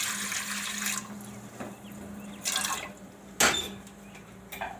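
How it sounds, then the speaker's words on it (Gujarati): Water splashes into a cooking pot on a gas stove for boiling lentils, in a few short bursts mixed with clanks of metal utensils in a quiet kitchen. "તો આમાં આપણે થોડુંક પાણી મેલશું"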